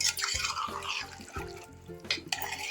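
Water from a glass is poured into a simmering hotel-style cauliflower kurma, with soft liquid splashes and stirring sounds close by over about three seconds, with no talking.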